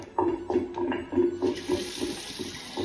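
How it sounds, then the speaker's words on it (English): Water swirled in a bowl while a fude brush is rinsed of soap lather, a quick series of rhythmic sloshing splashes, close and moderately loud, fading to a softer slosh. "So, back some water into the bowl, swirl it a bit, squeeze,"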